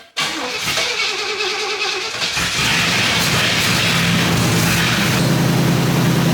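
A 1977 Pontiac Grand Safari station wagon, abandoned for thirty years and running off a temporary fuel supply, cranks with a rapid chattering starter, then catches and settles into a loud, steady rumbling idle close by.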